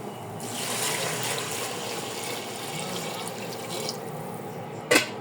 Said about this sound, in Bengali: আর এখন আমি পানি দিয়ে দিব